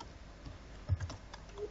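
Fingers type on a computer keyboard, a faint, quiet run of soft key clicks with a few slightly firmer taps, close by against light background noise.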